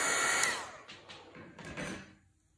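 Hair dryer blowing on a painting, a steady close whoosh that fades and stops partway through.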